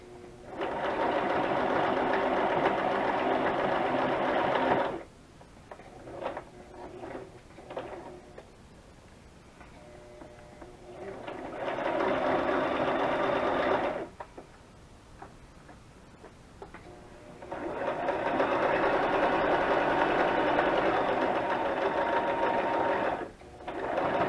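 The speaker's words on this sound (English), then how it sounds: "We'll go ahead and sew across it." A sewing machine stitches across a small paper tag in three steady whirring runs, each a few seconds long, with quiet pauses and light clicks between them, close up.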